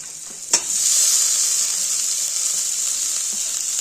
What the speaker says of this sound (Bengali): এবার এখানে যে মাছটা রয়েছে সেই মাছটাকে মিশিয়ে দেবো